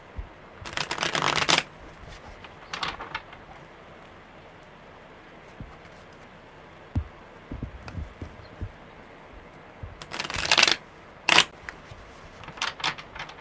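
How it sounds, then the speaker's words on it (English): Tarot cards are shuffled close by in two quick bursts of crisp riffling, with softer taps and shuffles of the deck in between. "that was a really good tight shuffle"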